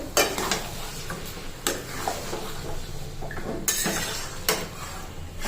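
Marinated chicken cooking in a pan, with a few sharp spatula scrapes and metal clinks over a soft, steady sizzle.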